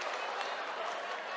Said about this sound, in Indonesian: Tepuk tangan untuk Lansia HKBP Distrik 8